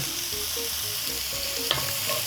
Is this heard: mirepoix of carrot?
yes